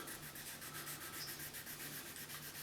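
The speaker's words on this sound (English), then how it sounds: "I'm sanding down a little more of the non-decal part of the headstock than I want to." Quiet, steady rubbing as a small rubber block sands a guitar headstock during decal prep, a soft continuous rasp with a faint rhythmic back-and-forth stroke, close and alone.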